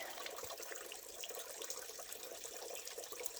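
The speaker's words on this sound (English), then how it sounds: "water is dripping out" Steady water trickling from a pipe at a building front in Cades Cove, Smoky Mountains, faint and continuous, with light splashing and no other sounds.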